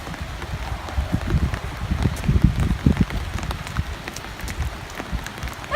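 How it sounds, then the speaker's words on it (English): Rain falls steadily, with patter of drops on a surface and uneven bursts of louder spattering over a continuous wash, no talk heard. "It is raining."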